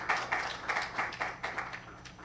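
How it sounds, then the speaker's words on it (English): A handful of people at a climate justice symposium clap in a sparse, uneven rhythm as panelists join the stage, fairly close and quiet. "Can we give a round of applause to our panelists as they join us on stage?"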